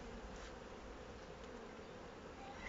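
Honeybees of a colony being fed for a week buzzing in a continuous, even drone, many insects together at a moderate distance with no voices.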